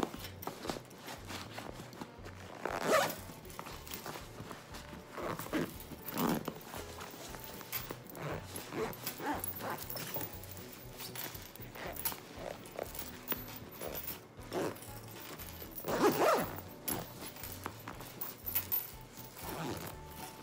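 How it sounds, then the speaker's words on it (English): A zipper is drawn shut on a packed cruise luggage bag stuffed with capri pants, giving intermittent scratchy zipping bursts and rustling up close, with no talking. "And zip them shut."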